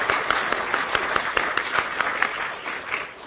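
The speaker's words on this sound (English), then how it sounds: "So applaud him" Brief applause breaks out for a departing co-area director at an IETF working group meeting, a modest room of people clapping in a quick scattered patter that fades after a few seconds.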